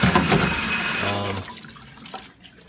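Soapy water dumped out of a container on a farm, a gushing, splashing pour lasting about a second and a half before trailing off into faint drips and trickles.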